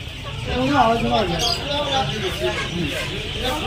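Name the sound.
native chickens clucking at poultry market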